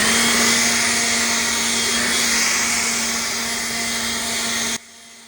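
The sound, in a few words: leaf blower running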